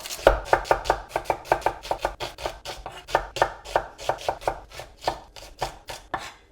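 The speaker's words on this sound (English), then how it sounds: "I'm just going to finely chop 2 onions." Two onions being finely chopped with a knife on a board: a brisk, steady run of about thirty sharp, close knocks, evenly spaced and alone with no talk.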